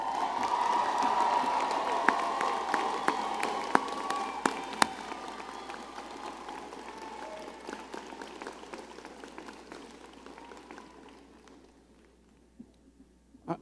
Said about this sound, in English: stand for a moment and salute with cheers and applause and raucous everything all the people who came here today to cheer you on